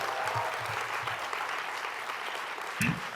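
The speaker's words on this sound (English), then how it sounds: "Let's give her a big round of applause." An audience claps at a teachers' convention event. The applause is steady and moderately loud, with many hands at once and a brief louder swell near the end.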